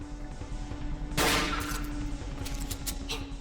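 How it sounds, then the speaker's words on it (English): A single sharp gunshot in the horror video game Cry of Fear, loud and close with a brief ringing tail, followed by a few faint clicks over a steady low hum. "I just shoot him in the head and he's dead."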